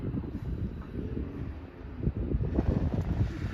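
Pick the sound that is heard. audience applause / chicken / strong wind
strong wind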